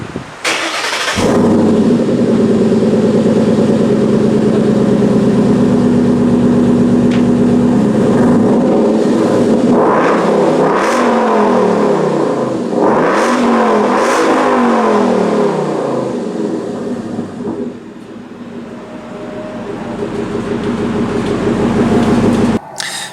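A 2012 Ford Mustang Boss 302 Laguna Seca V8 settles into a loud, rumbling idle, then the exhaust barks through several sharp revs that rise and fall before dropping back to idle, close up.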